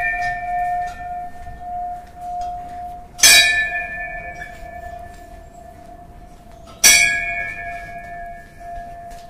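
A bell struck twice about three and a half seconds apart, each a sharp loud clang followed by a long ringing metallic hum that lingers between strikes, with faint outdoor background noise.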